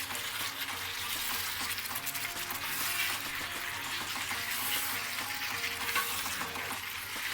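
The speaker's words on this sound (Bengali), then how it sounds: "এবার এই আলুসহ মাংসগুলোকে আমি আবারও তিন থেকে চার মিনিট ভালো করে কষিয়ে নেব" Pieces of duck meat and new winter potatoes sauté in a pan over medium heat, giving a continuous close sizzle with a low rattle of stirring throughout.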